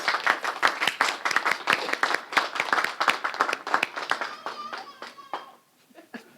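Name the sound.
audience applause for parents at school ceremony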